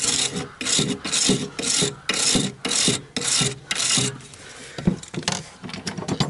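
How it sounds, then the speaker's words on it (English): Sandpaper rubs an RV battery terminal in about a dozen quick, rhythmic rasping back-and-forth strokes, close and loud, then a few slower scrapes at the end. "it looks like I need a piece of sandpaper"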